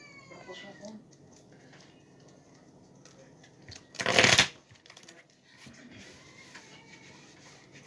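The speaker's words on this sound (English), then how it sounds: "I was just wondering if you were ruffle shuffling" A single brisk ruffle shuffle of Magic: The Gathering cards, a loud crisp burst of riffling lasting under a second, with quiet room sounds and faint talk around it.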